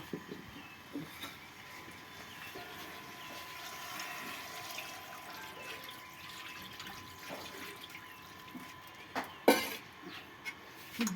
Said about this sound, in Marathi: पाणी टाकून